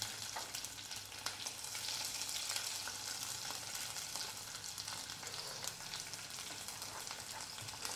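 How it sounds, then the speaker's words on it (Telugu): Green chillies fry in a pan for a pachadi, giving a steady, dense sizzle and crackle with light stirring scrapes throughout, close and unbroken, with no talking. "మిర్చి వేసేసుకుందాం."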